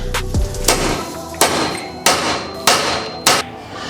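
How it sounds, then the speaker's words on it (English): Five heavy hammer blows strike a metal car part on an LS-swapped Monte Carlo SS at a steady pace, each a loud, ringing clang close by. "we got to go back to Old Faithful and just wham it down"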